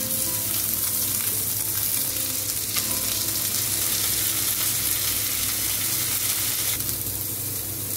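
Onion and red pepper frying in a pan for a Spanish lobster seafood stew, giving a loud, dense, unbroken sizzle that holds steady throughout, with faint stirring and no speech.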